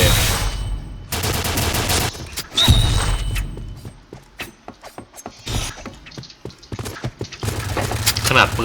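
G36 rifle fire in the online shooter Point Blank, heard as loud, close bursts of rapid shots with sharp mechanical clatter and gaps between volleys, while someone talks over parts of it.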